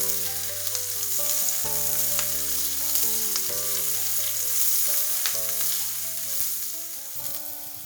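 Vegetables, lightly salted, frying in a pan as they are stirred, giving a steady close sizzle broken by scraping and clinks of the utensil, with no talk over it.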